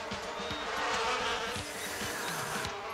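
Cartoon bees buzz in a dense, continuous swarm, a loud steady drone with shifting wingbeat tones and no talk over it.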